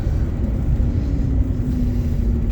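A VAZ 2110 car driving on a road, heard as a steady, loud low engine and road rumble that continues throughout with no speech.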